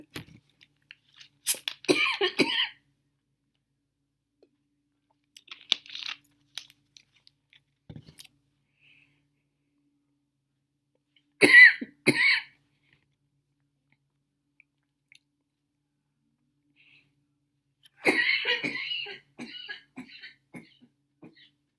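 A few sharp, isolated coughing fits spaced far apart in a quiet room, each a short cluster of harsh bursts close to the listener.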